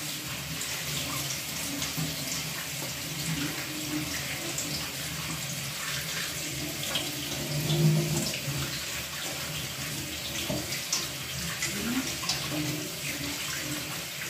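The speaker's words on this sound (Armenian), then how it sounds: "Այսպես լավ կպայեմ հոսող ջրի տակ" A tap runs continuously, water hissing and splattering steadily into a sink for a long stretch as pumpkin seeds are rinsed under it, with faint handling noises underneath.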